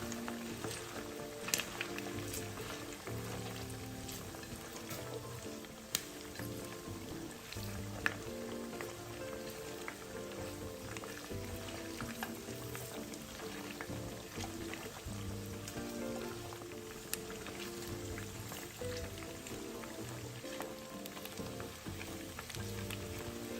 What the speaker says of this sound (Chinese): 肉塊油炸至視頻中這狀態